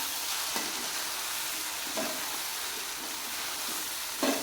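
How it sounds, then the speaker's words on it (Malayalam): Salted poha being stirred in a pan gives a continuous sizzling hiss with a few soft scrapes of the spoon, close and steady, with no talking. "നമുക്ക് നന്നായിട്ടൊന്ന് ഇളക്കി കൊടുക്കാം"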